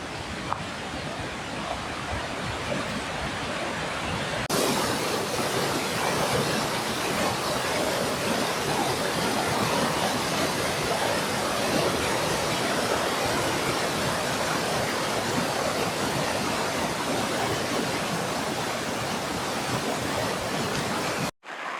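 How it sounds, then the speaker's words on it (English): Waterfall beside a portage trail at Little Trout Lake in Algonquin, a constant close broadband rush of falling water that roars evenly without a break for over twenty seconds. "there's a nice waterfall."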